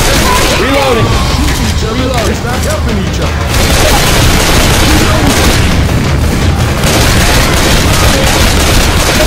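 Heavy booming explosions and dense gunfire fill a Left 4 Dead 2 firefight in the Dead Center hotel. The roar is loud and continuous, and voices talk over it throughout.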